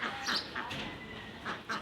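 Ducks quack in short, separate bursts as they feed, fairly faint and close, with a few calls spaced across a quiet morning background.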